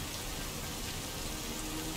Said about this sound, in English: The rain looks super fake.